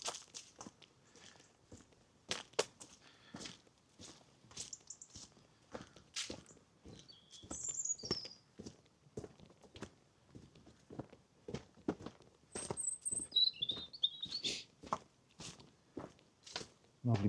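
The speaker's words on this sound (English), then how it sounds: "Lovely bird sound around." Short bright bird chirps ring out in a January woodland glen at Silverdale, Isle of Man, appearing in a few brief bursts over the steady crunch of nearby footsteps on a path.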